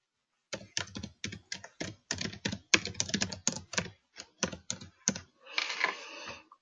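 Fingers tap out a username and password on a computer keyboard, a close run of quick uneven key clicks in bursts, ending with a longer rattling keystroke flurry.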